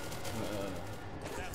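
Continuous, dense gunfire in a video game, rattling volleys sustained throughout at a steady but fairly faint level, with no clear gaps.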